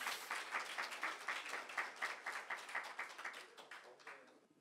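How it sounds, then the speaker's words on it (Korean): An audience at a gathering for newly qualified loss adjusters claps in rhythmic unison, a quiet, distant run of evenly spaced claps that fades toward the end. "그리고 오늘 지갑 크게 푸신 원장님 크게 박수로 맞아주시면 감사하겠습니다"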